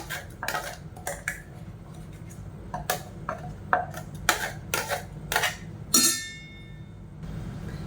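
A spoon stirring tomato paste into dosa batter in a bowl gives off a string of sharp, close clinks and knocks in an uneven rhythm, ending with one louder ringing clang; no one speaks.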